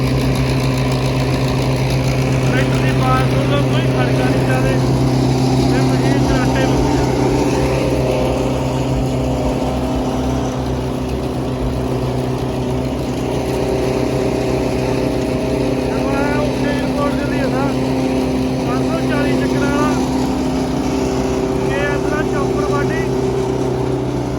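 Loud, steady rumble of an old-model Sonalika tractor engine running continuously at idle, with a deep throbbing hum and faint voices underneath.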